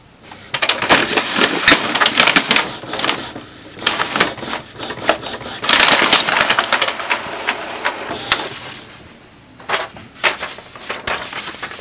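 An Epson Expression XP-series inkjet printer running a test page after a continuous ink system install, its printhead carriage clattering and whirring in fast, uneven bursts, close and fairly loud with short pauses between passes.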